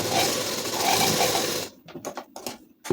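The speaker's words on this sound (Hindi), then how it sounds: "और फिर चला देंगे सिलाई" Sewing machine stitching a ladies suit: continuous rapid whirring for over a second, then stopping into a few short mechanical clicks and handling sounds.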